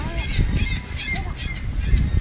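A hungry bird squawks and squeals loudly nearby during a van trip near Toronto, harsh repeated calls over constant low rumble and background noise.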